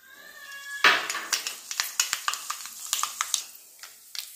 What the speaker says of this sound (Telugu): ఆవాలు వేసుకుందాం